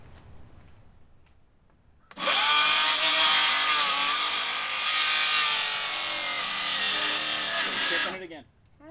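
Hand saw cuts along a line in a wooden board with steady rasping strokes for about six seconds, loud and close, with quiet talk just before and after.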